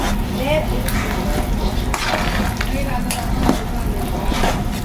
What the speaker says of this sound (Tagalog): Wow! Kumukulo-kulo na.